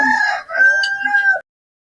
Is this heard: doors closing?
no